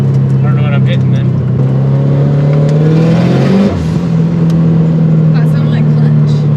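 A turbocharged FRS running E85 revs hard with the clutch slipping. The engine drones loud and close, and its pitch climbs steadily before dropping sharply near the end.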